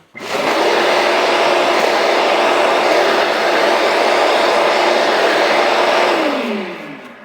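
An automatic dustpan vacuum sucking up swept floor debris, a loud steady whooshing motor roar that starts abruptly, holds for several seconds, then winds down with a falling pitch at the end.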